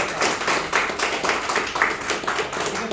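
Audience members clap at a Spanish-language gathering, a small group's hand claps landing in uneven rhythmic bursts close to the mic.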